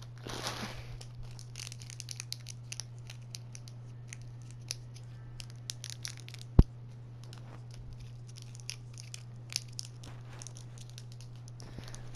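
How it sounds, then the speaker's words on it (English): Crinkly Warheads candy wrappers being unwrapped close up, small scattered crackles and rustles over a steady low hum, with one sharp click partway through. "I'm gonna unwrap these."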